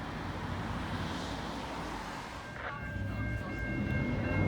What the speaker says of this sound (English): we got a train coming right now